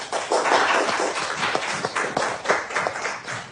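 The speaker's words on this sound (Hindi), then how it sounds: "तो तालियां हो जाए।" Applause in a classroom: a short burst of scattered hand claps from a group, fairly close and irregular, with no talking over it.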